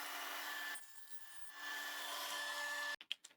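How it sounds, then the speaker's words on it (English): A mitre saw trims and cuts wooden boards, giving a faint, steady grinding rasp for about three seconds before it stops, followed by a few soft knocks. "I'll now trim the ends of these boards and then cut them in half."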